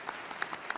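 Brief, scattered applause after a magic demonstration at a talk, a handful of claps standing out against a steady crowd wash, short and moderately loud.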